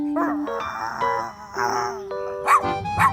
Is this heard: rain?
no